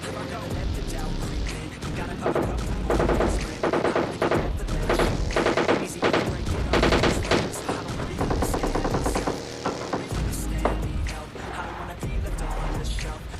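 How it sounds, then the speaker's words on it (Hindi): Gunfire in the PUBG Lite battle royale video game, repeated sharp bursts and volleys, fairly loud and steady throughout, mixed with thuds and background game noise. "बस फायर सुनो। सामने से मुझे फायर आता है।"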